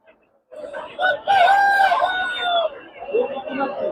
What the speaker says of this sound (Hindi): ये भाई असील की मुर्गी है, पीली मुर्गी है।